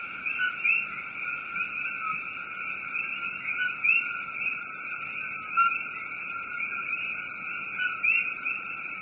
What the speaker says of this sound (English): Did you know the coqui got its name by the sound it makes?